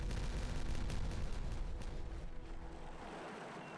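A detonation goes off in Timberpunk, a broad rumbling blast that stays loud and dense before slowly fading out.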